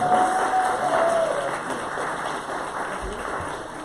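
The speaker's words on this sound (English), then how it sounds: "Give a round of applause." An audience at a monthly meeting claps steadily in a roomy space, a moderate round of applause that holds throughout with a faint murmur of voices underneath.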